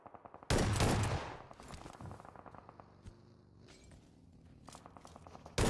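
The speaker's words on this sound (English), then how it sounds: "The shotgun is still there. Sprays it into the dirt behind Nico." Shotgun blasts in PUBG Mobile: a rapid volley of sharp shots opens, then a big close boom, followed by scattered footsteps and distant pops, and a final blast at the end.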